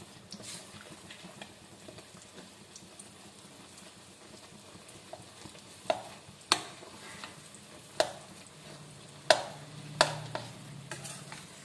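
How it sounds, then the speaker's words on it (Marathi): Ground dal being stirred and fried in ghee over low heat, a soft steady sizzle with scraping spoon strokes and several sharp clinks of utensil on the pan in the latter half. "जोपर्यंत मोकळी होत नाही डाळ, तोपर्यंत आपल्याला छानपैकी तुपामध्ये परतून घ्यायचं आहे."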